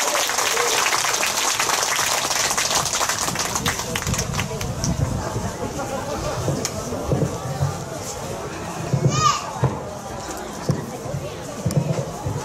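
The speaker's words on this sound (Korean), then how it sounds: "박수 부탁드립니다" An audience at a Buddha's Birthday celebration at a temple applauds a traditional Korean music performance, with steady clapping mixed with crowd murmur and voices nearby.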